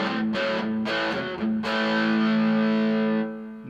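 Electric guitar on the bridge pickup through a budget amp simulator pedal set to an AC-style tone, heavily distorted, playing sustained chords with a few sharp restrikes, loud and close with no talking.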